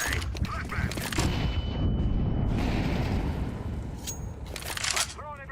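Flashbang grenade detonating in the shooter game Counter-Strike 2, a loud burst giving way to a long high-pitched ringing amid gunfire and game noise, with voices shouting over it.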